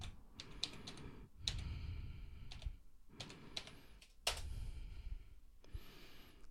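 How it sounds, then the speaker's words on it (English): Bursts of keyboard typing in several clusters separated by short pauses, clicks close and clear, with faint breathing between bursts. "Now we're typing the password again."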